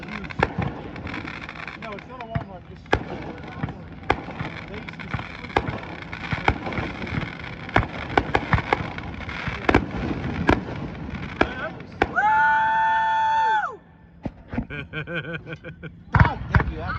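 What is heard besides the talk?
fireworks set off across a lake bay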